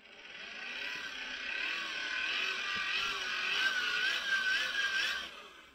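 Hand-cranked megohmmeter being turned, a continuous rising and wavering whine from the internal generator that swells and holds steady for several seconds with no talking.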